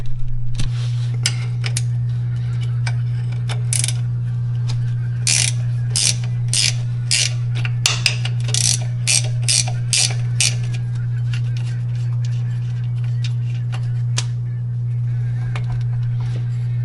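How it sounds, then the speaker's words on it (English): A ratchet loosens a bolt on a Subaru 5-speed transmission, with a series of sharp, close clicking bursts in uneven runs over a steady low mechanical hum. "next thing I'm going to do is take this bolt off"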